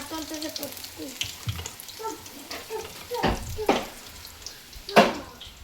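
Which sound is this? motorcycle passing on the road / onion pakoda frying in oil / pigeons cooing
onion pakoda frying in oil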